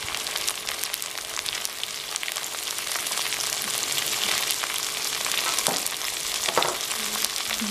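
Onion, green chilli, peas, carrot, beans, cabbage and ginger fry in hot oil in a pan for masala khichdi, a steady close sizzle with scraping spoon strokes from stirring.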